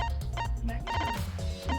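A series of short chiming, tonal notification blips in the game Danganronpa V3: Killing Harmony, repeating in quick succession over a steady background of game music.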